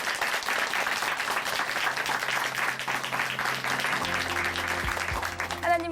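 A church congregation at Chuncheon Hanmaeum Church claps in dense, sustained applause that fills the room steadily, with a few tonal musical notes joining near the end.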